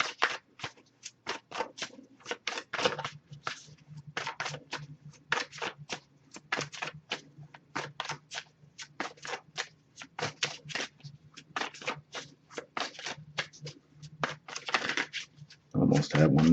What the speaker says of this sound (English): if I shuffle for a while without anything coming up, I'll just move on to the next Oracle deck